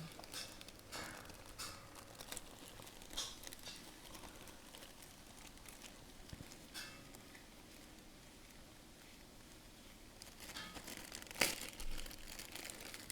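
Packaging for a plug adapter being torn open by hand: faint, scattered crinkling and tearing crackles, with one sharper rip near the end and no talking.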